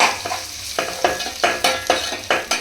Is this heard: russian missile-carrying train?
no